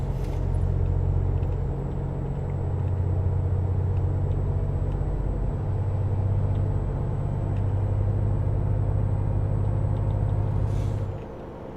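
A modded Ford Raptor pickup truck races fast through traffic in Euro Truck Simulator 2, its engine a steady, loud, close drone with a deep low rumble that holds almost unbroken for about eleven seconds before easing off at the end.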